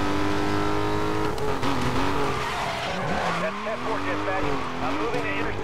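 A car races in the video game Need for Speed Most Wanted, its engine revving and shifting pitch with squealing tyres, loud and continuous, while a voice speaks over the driving.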